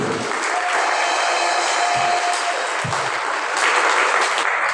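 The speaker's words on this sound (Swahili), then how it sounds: "Tupatie Yesu makofi mazuri" A church congregation applauding together, a loud dense wash of clapping held steady throughout and close by.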